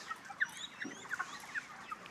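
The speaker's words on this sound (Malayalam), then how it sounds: "ഇറച്ചിക്കോഴികൾ." Broiler chickens in a farm shed set among coconut groves in a Tamil village give soft, scattered clucks, faint and somewhat distant, a few short calls in quick succession.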